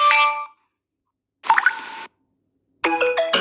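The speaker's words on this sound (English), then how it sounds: "bell." The notification bell alert sounds in the eufyCam 2 Pro security camera app as three separate short chimes, each bright and ringing, with gaps of silence between them.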